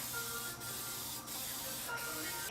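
A spray paint can hisses steadily while applying a second coat to the trunk lid of a 1990 Miata, with two brief pauses between passes. The spray is close and loud, with no voices.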